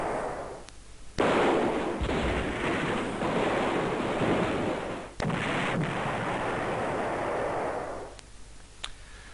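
Rocket defense battery firing in the Panzer General strategy game, a loud sustained roaring barrage of broadband noise with sharp bursts near the start and middle, fading out toward the end with no talk.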